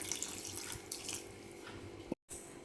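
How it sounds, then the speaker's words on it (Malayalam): Water splashes steadily into a clay pot of beetroot for a couple of seconds, quiet and close, then stops briefly. "അതിലേക്ക് 1 കപ്പ് വെള്ളം കൂടി ചേർക്കാം"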